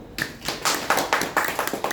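An audience applauds a team at a leadership and teamwork talk, a steady round of hand claps with a regular rhythm, fairly close and moderately loud, with no speech over it.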